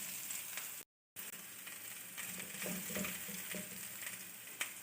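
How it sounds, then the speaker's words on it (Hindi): Potatoes shallow frying golden in a little oil in a kadhai for Kashmiri dum aloo, with a soft, steady sizzle, a short silent gap early on and faint stirring clinks later. "ये मैंने कितने कम ऑयल में इनको शैलो फ्राई किया है।"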